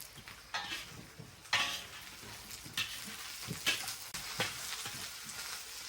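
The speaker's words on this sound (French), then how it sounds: "on rajoute les oignons." Onions frying in a pan alongside fish, a steady sizzle broken by sharp scraping stirs and utensil knocks against the pan at close range.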